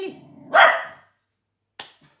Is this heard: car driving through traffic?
no